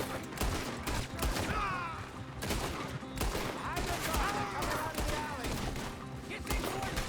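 Rapid bursts of video game gunfire crackle throughout a hectic firefight, loud and near, with overlapping shots and thuds while voices talk over the action.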